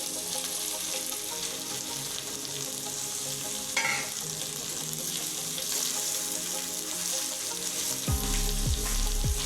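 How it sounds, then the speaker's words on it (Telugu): Cleaned mushrooms, with chopped mint and coriander, fry in a pan for pulao, giving a continuous close sizzle with faint stirring, ending in a few low thumps. "మంచిగా క్లీన్ చేసి పెట్టుకున్న మష్రూమ్స్ వేసుకుందాం"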